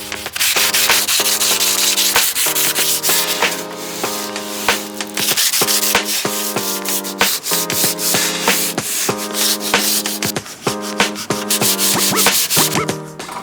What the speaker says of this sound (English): with a folded up piece of sandpaper, I gotta get into so many crevices.